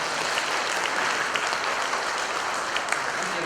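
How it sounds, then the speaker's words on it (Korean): Dense, steady applause from a crowd at the founding ceremony of an International Buddhist Union, a continuous wash of many hands that stays level for the whole stretch. "박수로서 축하드립니다."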